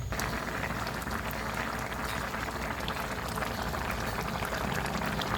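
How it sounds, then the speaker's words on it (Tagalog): Coconut milk bubbles at a steady, dense boil in a pot, making a continuous close crackling simmer throughout with no talk. "So, papakulan ulit natin siya."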